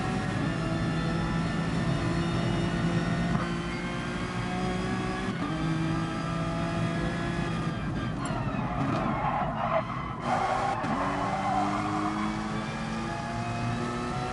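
Racing cars in a racing game league race roar through a chicane, engines droning and shifting pitch continuously with tire squeal as they brake and accelerate, a steady close mechanical whine with no pauses.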